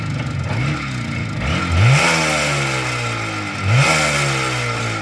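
A 1991 Izh Jupiter 5 two-stroke motorcycle engine in fishing version runs close by, its rough buzzing note rising in two quick revs before settling back toward idle.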